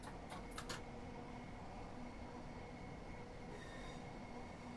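A Class 465 electric train in Train Sim World 3, on the Dartford to Faversham route, gives off a steady, fairly quiet rolling rumble, with a few brief higher clicks early on and no talk.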